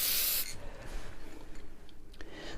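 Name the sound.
lightly spraying matte spray onto beer glass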